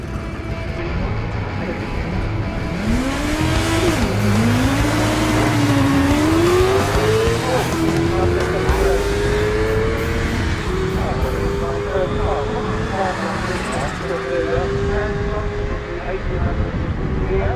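A Skelter race car, an Australian build fitted with a 600 R6 motorcycle engine, runs at a seafront speed trial, its high engine note climbing through rising gear pulls, loud and sustained as it accelerates past.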